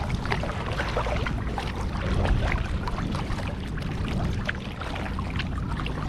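A kayak paddling through Valletta Grand Harbour in Malta, with continuous close water splashing, sloshing and light paddle strokes over a low rumbling wash.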